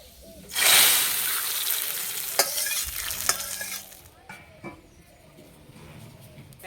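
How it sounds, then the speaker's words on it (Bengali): Hot mustard oil tempered with five-spice and dry chillies hits a pot of masoor lentil dal with a loud, sudden sizzle that fades over a few seconds, followed by a few clinks of a spoon against metal. "এই ফোড়ন তেলটা ডালের মধ্যে দিয়ে দেব।"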